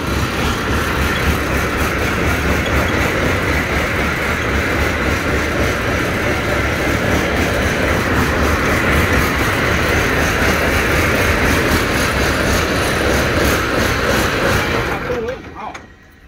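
A Nissan MD92 truck engine runs loud and steady at close range, a continuous diesel rumble with a dense, even texture that holds for about fifteen seconds before cutting off abruptly.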